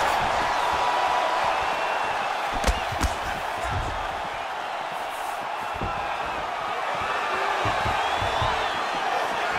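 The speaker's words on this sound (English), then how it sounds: "you hear the crowd react every time they come together" Steady roar of a large UFC arena crowd throughout, with sharp impact-like bursts and brief swells of cheering partway through as the fighters exchange.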